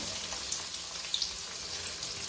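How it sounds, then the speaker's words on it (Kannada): Finely chopped onion frying in oil with chana dal for cabbage masala, a constant dense sizzle with a few small pops and crackles, close up, with no one speaking. "ಈರುಳ್ಳಿನ ಅಷ್ಟು ಒಂದು 2 ಸೆಕೆಂಡ್ ಫ್ರೈ ಆಗಿದೆ ಎಣ್ಣೆಗೆ"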